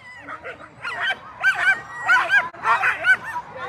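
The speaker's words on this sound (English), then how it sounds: "Bouncing happy sled dogs want to go." Excited sled dogs bark, yip and whine together before a race start in Willow, Alaska, a dense, continuous chorus of overlapping barks from several dogs close by.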